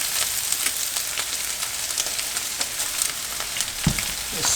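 Stir-fry noodles sizzle hard in hot oil in a home kitchen, a dense continuous crackle with scattered sharp pops and a soft clunk near the end, no talking.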